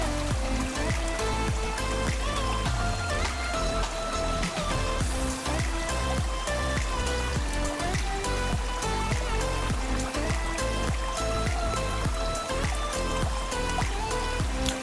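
Hot water pours from a JetBoil into a coffee press element inside a Snow Peak 700 mug, a steady close trickle and splash running on without a break for about fifteen seconds.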